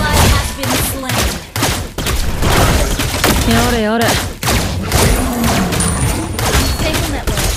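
Layla's gun fires rapid shots in a Mobile Legends match, dense loud bursts mixed with game effects and announcer-style voice lines throughout.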